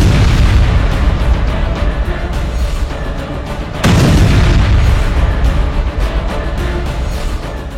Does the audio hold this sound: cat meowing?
no